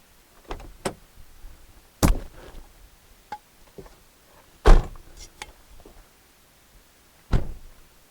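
Several heavy truck doors thump shut one after another at irregular intervals, with quieter clicks and rattles of handles between them, fairly close by at a campsite.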